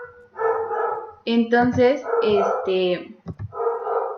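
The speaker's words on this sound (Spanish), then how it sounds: "mis perritos toda la mañana no ladran y cuando empieza la clase, hagan de cuenta que les digo, pónganse a ladrar" Small pet dogs bark in a home during an online class, giving a few short, sharp yaps close by that blend with a person talking.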